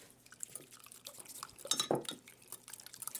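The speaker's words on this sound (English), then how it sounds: "And we'll whisk that up." A fork or whisk beats an egg in a bowl for scone dough, making quick, light, irregular clinks and taps against the sides at close range.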